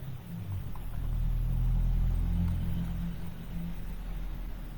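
Road traffic and buses rumble past outside a window, a low continuous drone that swells and fades as vehicles go by, with no voices.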